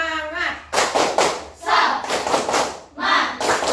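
A school class does the rhythmic 'tepuk semangat' spirit clap, with several loud bursts of group clapping and thumping in a patterned beat, mixed with children's voices calling out together.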